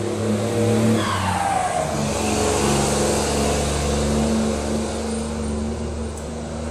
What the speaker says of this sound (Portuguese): um caminhão passando